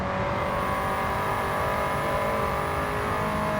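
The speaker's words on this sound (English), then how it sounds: "the car sounds louder on the inside as well with the more weight reduction that you do" Stripped-out race car in a video game, heard from inside the cabin after weight reduction: a loud, steady engine drone with a strong harmonic whine holding near-constant revs throughout, with no talking.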